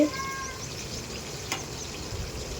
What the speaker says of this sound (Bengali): আমি ভালো করে নেড়ে চেড়ে রান্নাটা করে নিচ্ছি